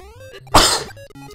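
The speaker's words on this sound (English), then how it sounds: "I keep sneezing in- like, every episode" One sharp, sudden sneeze bursts out loudly over quiet Super Mario Bros. game music, lasting about half a second before the tune carries on.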